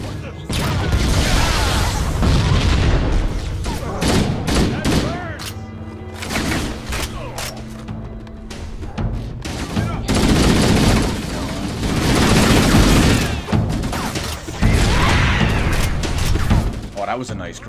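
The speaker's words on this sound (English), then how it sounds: "let's get a nice little grenade in there to take out a group of them" A grenade explosion booms amid sustained gunfire in Halo: Combat Evolved, with loud, dense volleys of shots and thuds while a person talks over the action.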